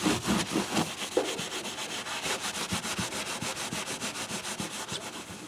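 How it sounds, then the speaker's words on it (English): Rag rubbing excess F1 oil off the neck of a Washburn guitar, a steady rhythmic swishing wipe repeating back and forth at close range, fairly loud and alone without talk. "now I'm going to go ahead and wipe the excess F1 oil off of the neck"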